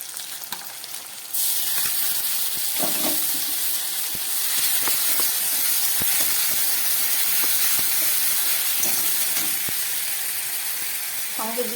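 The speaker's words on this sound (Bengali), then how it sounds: "দিয়ে দিচ্ছি কয়েক টুকরো টমেটো, এবার দিয়ে দিচ্ছি 1 চামচ আদা রসুনের পেস্ট।" Tomato pieces and ginger-garlic paste hitting a hot pan, a sudden loud burst of hissing sizzle that continues steadily, with scattered stirring taps and brief voice in the background.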